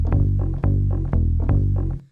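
Sampled sliding notes from a song, one pitched down lower than the other, repeating in a loose, lurching rhythm of four thick, bass-heavy hits, loud and alone.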